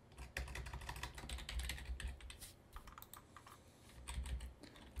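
Someone types on a computer keyboard in a quick, uneven run of close, crisp key clicks with brief pauses, heard alone without talk.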